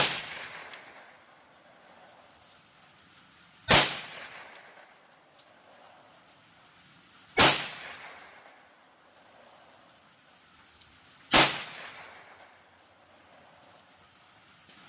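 Three sharp .22 WMR rifle shots firing CCI 45-grain rounds, spaced about four seconds apart. Each is a loud crack with a short ringing tail outdoors, and quiet background fills the gaps between them.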